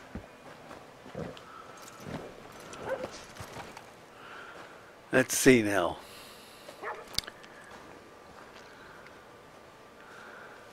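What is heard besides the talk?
dog barking in Red Dead Redemption II video game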